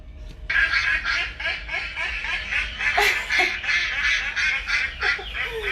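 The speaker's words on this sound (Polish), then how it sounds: "Czy możemy posłuchać kaczki?" Repeated duck quacks in quick succession, loud and close, with a few overlapping calls throughout.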